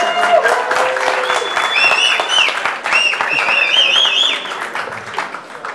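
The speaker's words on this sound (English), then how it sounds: "Give a round of applause," A Crypto Monday event crowd applauds loudly and steadily, dense close clapping mixed with cheering and whistles, while a host's voice calls out over the noise.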